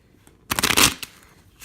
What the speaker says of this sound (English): that's the most efficient shuffle. It's called the bridge.